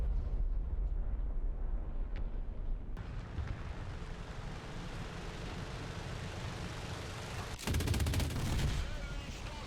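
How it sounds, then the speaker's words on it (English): Rapid bursts of 23mm autocannon fire from a Soviet BTR-ZD anti-aircraft vehicle in War Thunder, a dense rattling barrage running throughout with a sharper, louder burst near the end. "The 23mm cannons do kick a lot, especially noticeable with longer bursts of fire."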